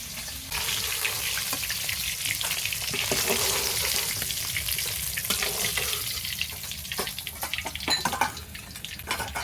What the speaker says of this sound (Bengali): এবার আমি এই মাছটা দিয়ে দেব মাথাগুলি ভেজে নেবো